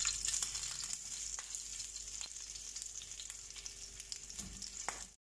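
Chicken pieces fry on a tawa over a low flame with a soft, steady sizzle and crackle, dotted with small pops and spits, with no talking. The sound cuts off abruptly at the end.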